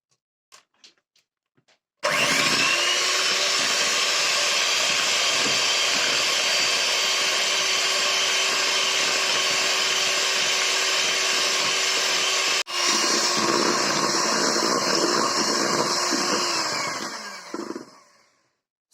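An electric mixer whips cream with a packet of vanilla sugar, a loud steady whirring drone that starts abruptly, breaks off briefly near the end and then winds down, with no voices.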